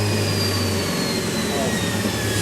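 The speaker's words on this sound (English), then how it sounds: "Okay, tires are spinning." An electric direct-drive car's tires spin under the accelerator, producing a loud, steady whine and hum of motor and drivetrain with slowly shifting tones.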